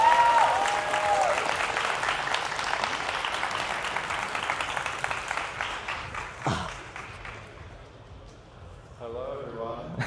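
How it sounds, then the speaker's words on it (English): Audience applause at a stage presentation during a tablet showcase event, dense clapping and crowd noise that fades gradually over several seconds before a voice begins speaking near the end. "And so please, a round of applause"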